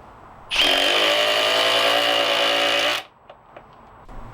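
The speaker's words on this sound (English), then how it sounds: "Here's the Surge driving a 3-inch screw." A Milwaukee M18 Fuel Surge hydraulic driver runs steadily for about two and a half seconds, driving a 3-inch screw with a loud, close, even whir that cuts off abruptly, followed by a few faint clicks.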